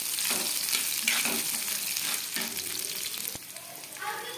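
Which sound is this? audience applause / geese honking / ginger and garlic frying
ginger and garlic frying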